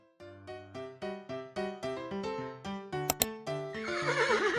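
A horse gives a long, loud whinny that falls in pitch through a series of pulsing neighs and ends in a breathy, rough flutter, close by and with no other sound.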